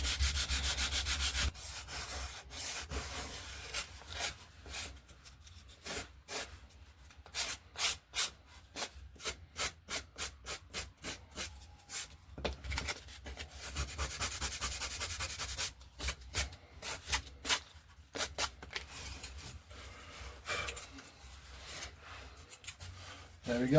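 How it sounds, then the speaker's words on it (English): Rapid back-and-forth sanding strokes rasp across the wings of an RC Coyote glider, coming in bursts of quick rhythmic rubs with brief pauses between, close and fairly loud. "Don't sand off too much because it'll look ugly"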